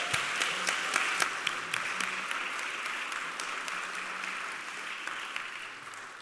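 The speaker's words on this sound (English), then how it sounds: "Can we just applaud what we just did?" Church congregation applauding in the sanctuary after a service moment, sustained clapping at a moderate distance with a few sharper individual claps standing out near the start, tapering slightly toward the end.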